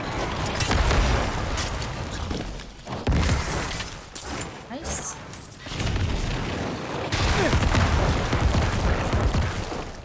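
Corpse explosion skill in Diablo IV gameplay on PS5, a run of booming, crackling blasts with shattering debris that come in bursts and lulls, while someone talks over the game sounds.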